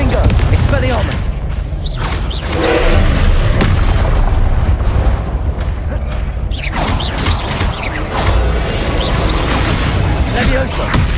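Confringo fire spell blasts in Hogwarts Legacy, repeated loud bursts and booms amid clattering magical effects, with a voice talking over the action throughout.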